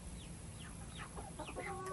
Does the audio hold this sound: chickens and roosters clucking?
yes